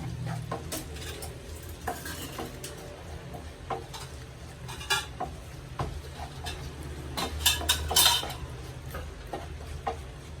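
Turmeric and fenugreek powder roast in a pan for lemon pickle, a soft sizzle under light scraping and clinks of a utensil stirring, with occasional sharper taps.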